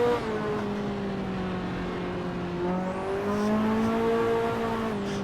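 Race car engine in the Assetto Corsa and Automobilista racing sims, a steady droning rev under light throttle that rises and dips gently in pitch, continuous and fairly close, with no talking.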